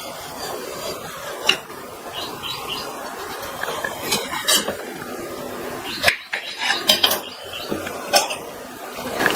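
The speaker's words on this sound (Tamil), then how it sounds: "இதனுடைய மேல் தோலை லைட்டா சீவிட்டு கட் பண்ணிக்கலாம்" A knife scrapes the skin off a bottle gourd and cuts through it, giving irregular rasping strokes and sharp clicks and taps, close and fairly loud, with no speech.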